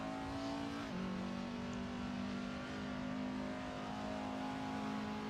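Race car engine in the Assetto Corsa racing game during a 24-hour endurance event, holding a steady high drone with a brief pitch drop early on as it shifts, continuous and alone without talk.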